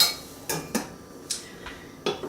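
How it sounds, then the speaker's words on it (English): Fresh apples stirred in a pot with a utensil. A few sharp, separate clinks and scrapes against the pot sound close and fairly quiet. "And I do just keep stirring the apples."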